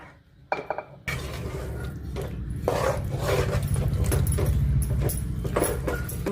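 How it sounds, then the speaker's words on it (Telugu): A spoon stirs amla (gooseberry) chutney with oil in a bowl, giving repeated close scraping and clinking against the bowl in a steady rhythm after a short quiet start. "స్పూన్ ఇట్లా పండబెట్టి కలిపితే మొత్తం కలిసిపోతుంది."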